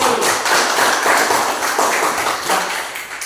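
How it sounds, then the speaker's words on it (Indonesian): A small classroom group claps for a student team after a presentation, a loose patter of scattered hands with uneven rhythm, fairly close and lively. "tepuk tangan untuk kelompok 10"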